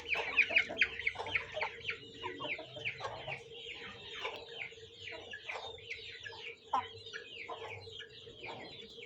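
Aseel hens on a farm in Amritsar clucking repeatedly in close, choppy bursts, with occasional louder squawks over a faint steady hum.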